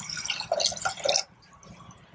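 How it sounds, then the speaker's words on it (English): Water poured into a pressure cooker splashes and trickles nearby for about a second, then stops, leaving a quieter background with faint drips. "Add water"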